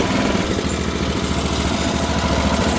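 A freshly started Craftsman 208cc rototiller engine runs steadily nearby with a loud, continuous chugging drone and a throbbing, even rhythm, with no voices.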